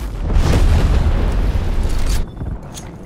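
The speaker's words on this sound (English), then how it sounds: "Napalm strike incoming." A napalm strike in Call of Duty: Cold War erupts in a loud, close, sustained roaring blast that rumbles for about two seconds and then drops off into quieter crackling.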